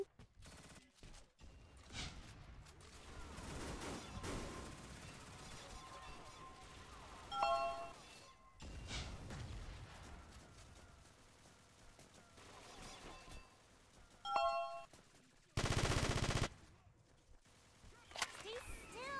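Video game gunfire crackles in scattered bursts of sharp shots mixed with metallic pings and a dense stretch of rapid fire near the end, fairly faint and layered with other game sounds, with no talking.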